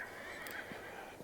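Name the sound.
horses whinnying to each other in separate pens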